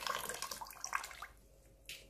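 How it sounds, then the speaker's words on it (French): Water pouring into a cooking pot from a tap, a splashy gush that is strongest at the start, eases off, then briefly surges again near the end. "J'ajoute de l'eau dans ma marmite."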